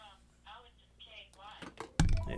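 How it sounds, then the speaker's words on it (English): A telephone rings in the background from spam calls, its faint, high trilling bursts repeating under a person talking, before a sudden loud thump at the end. "Hopefully you don't hear that ringing in the back"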